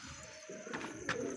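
Pigeon chicks in a nest, hungry and not yet able to fly: a few soft, quiet cooing and chirping calls, close by, over faint background noise.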